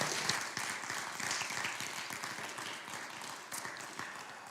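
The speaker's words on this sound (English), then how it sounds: "let's give all of our candidates a round of applause" Applause from the audience at a faith forum for town council at-large candidates, a dense round of clapping that starts full and tapers slightly toward the end, heard at a moderate distance.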